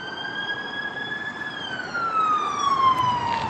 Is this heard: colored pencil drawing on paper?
no